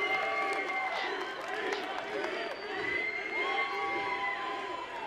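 A large audience cheers, whoops and applauds at Bethesda's E3 2017 press conference showcase, a dense, continuous roar of crowd noise with shouts rising above it.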